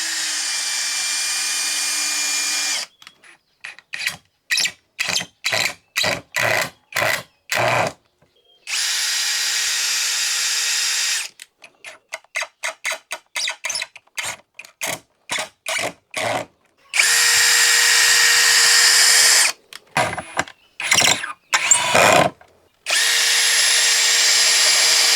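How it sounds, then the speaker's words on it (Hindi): A power drill bores pilot holes and drives screws into wood while a saw horse is built, alternating long sustained whining runs with quick stuttering trigger bursts, loud and close with pauses between. "तो ये पहले ड्रिल कर रहे हैं, फिर उसके बाद हम लोग स्क्रू कस रहे हैं।"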